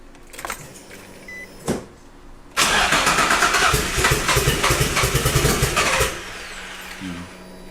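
A fully built Greddy twin-turbo Nissan G35 engine cranks briefly, then catches and runs loud and rough for several seconds before dropping back; a short quiet cranking burst precedes the start.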